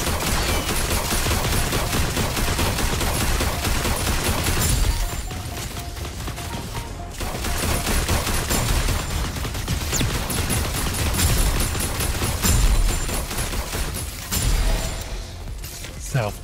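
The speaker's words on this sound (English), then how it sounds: "Every time we got near a core, everything starts cluster bombing you." Rapid barrages of explosions and gunfire from cluster bombing in the mech combat video game Super Mecha Champions, dense and loud throughout with a brief lull midway, voices faintly mixed in.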